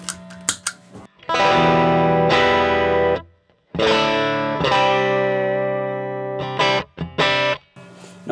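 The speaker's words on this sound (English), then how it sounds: "Here's without the compressor." An electric guitar played through a 1977 Fender Bassman 50 amp with no compressor gives a few clipped picked notes, then long sustained distorted chords that ring and fade, then more short stabs, loud and close.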